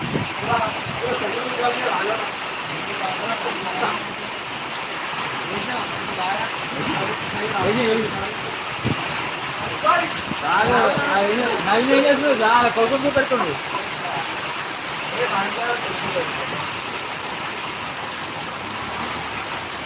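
Steady heavy rain hisses throughout in Balaji Nagar, Hyderabad, with a voice talking over it at several points.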